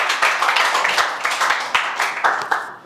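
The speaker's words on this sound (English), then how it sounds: "Please clap for Shani." A class claps for a student, a quick rhythmic run of distinct hand claps, loud and close, with no one talking over it.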